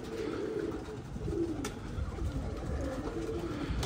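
Dalaa pigeons coo on a rooftop, soft throaty rolling calls repeating close by over a steady low background rumble.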